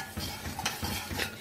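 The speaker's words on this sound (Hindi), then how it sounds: "अब आप इसको हिला लें ऐसे" A spoon stirs water with lemongrass and fennel in a pot, making a series of close, rhythmic scraping and swishing strokes with no talk.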